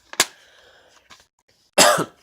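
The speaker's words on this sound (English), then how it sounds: "Sorry about the coughing." Two separate coughs from one person, one short and sharp near the start and a louder, harsher one near the end, close up with quiet between them and no talking.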